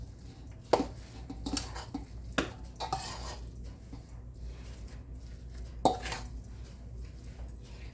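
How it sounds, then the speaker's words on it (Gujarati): Spoon stirring food in a metal pot for ragda patties, with a few sharp clinks against the side and soft scraping between them, close and fairly quiet. "એને આપણે ચમચાથી થોડું મિક્સ કરી દઈશું."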